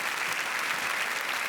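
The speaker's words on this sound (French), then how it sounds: "Mesdames et messieurs, attendez un applaudissement pour monsieur Yann Guillaume." Audience at a comedy show in Cannes applauding, a dense wash of clapping from a crowd that holds steady and full throughout, with no voices on top.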